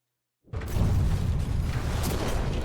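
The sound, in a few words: explosion in SINxHOLIC video game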